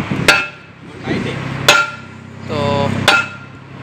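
Sharp metal hammer blows strike a tight part while working on the crown and pinion of a Caterpillar 938G wheel loader, three loud isolated hits spaced apart with quieter scraping and clinking between them.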